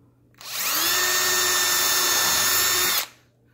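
A power drill pre-drills a screw hole in a wooden couch frame, a single loud, steady high whine lasting about two and a half seconds with a sharp start and stop.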